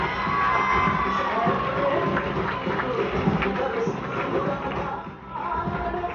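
A lively crowd at a school annual prize distribution ceremony roars and cheers, with children shouting and whooping in a continuous, loud blur of voices that dips briefly before swelling again.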